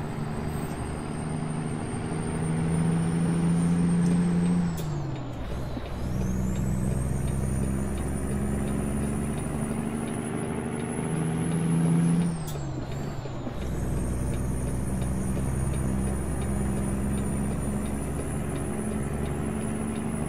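Heavy truck in American Truck Simulator cruising through Fargo, North Dakota on Interstate 29, a steady low engine drone with two sharp air-brake hisses and pitch dips around five and twelve seconds, then a whining high tone.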